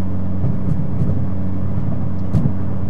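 A Mitsubishi Evo X MR engine drones steadily from inside the car, a low, even rumble holding at moderate revs with faint cabin whir and no speech.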